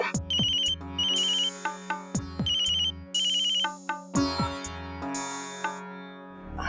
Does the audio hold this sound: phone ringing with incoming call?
yes